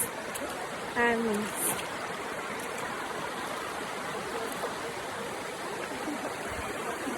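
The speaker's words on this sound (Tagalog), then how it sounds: "Ito ang ilog nila guys." A river in Palawan flows with a steady broadband rush of water, continuous and fairly close, with a brief higher tone and a few faint sounds passing over it early on.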